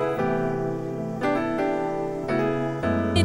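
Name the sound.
Keyscape piano with pad and bell sound in Logic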